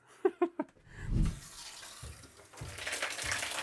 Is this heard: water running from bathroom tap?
yes